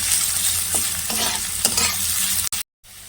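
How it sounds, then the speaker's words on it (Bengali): Chopped onion and green chili fry in a pan for a curry, a steady loud sizzle with utensil stirring scrapes, cutting out abruptly near the end. "পেঁয়াজ কুচি কাঁচা লঙ্কা দিয়ে ভালো করে ভেজে নেব"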